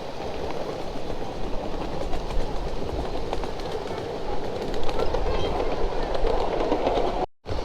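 Ride-on model train rolling along its track through woods, a steady close rumble with a rhythmic clickety-clack of wheels over rail joints, running continuously with a brief dropout near the end.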